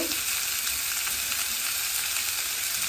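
Mixed boiled vegetables frying in a pan, stirred together with a spoon, give a steady close sizzle that runs unbroken throughout, with faint scrapes of stirring beneath it.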